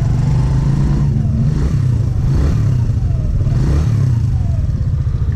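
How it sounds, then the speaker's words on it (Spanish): Steady motorcycle engine idling close by, a rough low rumble with rhythmic clatter and a faint timing chain whine riding above it throughout. "El ruido del motor me encanta cuando se tensa la cadena de distribución"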